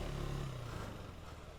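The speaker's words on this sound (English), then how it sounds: "just get used to revving it out a lot more" A KTM 390 Enduro R single-cylinder motorcycle engine revs steadily at close range, its pitch easing down slightly over a second and a half, with no voices over it.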